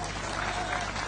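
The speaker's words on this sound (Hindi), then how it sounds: "अब बजा ताली।" Dense crowd applause rises briefly at a political rally where a chief minister's announcements are being read out, a short steady burst of clapping heard alone.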